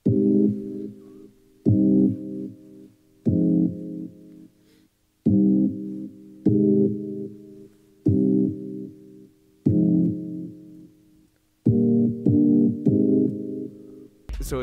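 Two dark synthesizer layers played together, forming a low, repeating pattern of sustained chord-like tones that start abruptly and decay, continuing for several bars.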